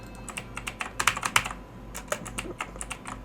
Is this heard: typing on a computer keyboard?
yes